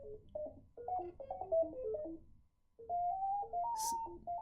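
A series of quick electronic beeping tones at shifting pitches from a random tone generator in a guitar signal chain, irregular and chirpy, with a short pause midway before the tones resume.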